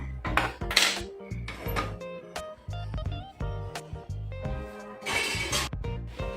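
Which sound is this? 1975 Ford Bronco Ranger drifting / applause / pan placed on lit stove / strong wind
pan placed on lit stove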